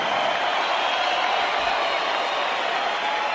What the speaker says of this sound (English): a round of applause for these 2 warriors in the ring here tonight